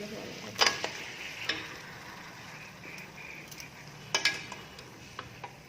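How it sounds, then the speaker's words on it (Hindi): Mutton being added to a hot karahi pan and stirred for a spicy Lahori-style curry: a soft, steady sizzle broken by a few sharp metallic scrapes and clanks from the spoon, close up, with no talk. "चलिए अब हम गोश्त ऐड करते हैं।"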